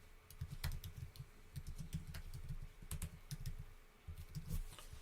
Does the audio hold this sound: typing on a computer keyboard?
yes